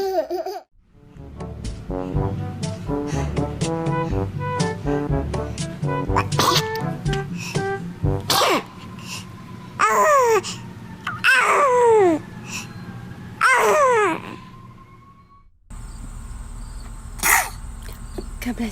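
A baby sneezes several times in short bursts spaced a few seconds apart, following a stretch of babbling and coos, with adult voices around.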